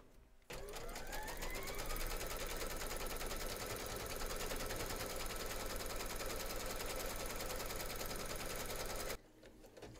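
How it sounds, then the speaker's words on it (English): An embroidery machine stitches a placement outline for an in-the-hoop teddy and unicorn bag, its rapid, even needle chatter starting after a quiet moment and running steadily for about nine seconds before cutting off. "pop your hoop into your machine and stitch round number 1, and that's going to give us our placement outline"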